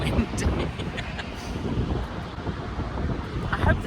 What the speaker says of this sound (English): oh my god, it is so windy.